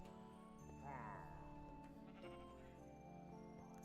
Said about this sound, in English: That's a sheep.